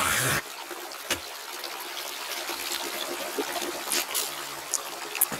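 Cold mountain river water flows high in the hills, a continuous close rush and trickle with a few sharp splashes and knocks standing out.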